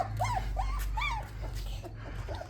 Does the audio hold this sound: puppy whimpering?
yes